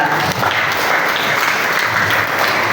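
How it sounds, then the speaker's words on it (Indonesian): A school audience at a student orientation event applauds a visiting alumna, with dense, loud, continuous clapping filling the room throughout. "tepuk tangan dulu dong buat Kak Tia"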